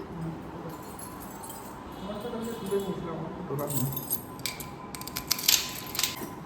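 A bunch of car keys jangles and clinks in short metallic bursts, mixed with indoor talk as people speak nearby.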